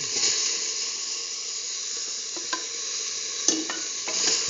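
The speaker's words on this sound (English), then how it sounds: "put in the tomato pieces" Tomato pieces sizzle steadily in a hot pan for an eggplant and split mung bean stew, with a spoon scraping and stirring through them and a few sharper clinks of the utensil against the pan.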